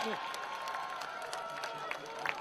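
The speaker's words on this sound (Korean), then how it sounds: "여러분 다시 한번 뜨거운 박수 부탁드리겠습니다" Applause from a crowd at an outdoor political campaign rally in Daegu, steady and fairly distant, with a few louder claps and cheers near the end.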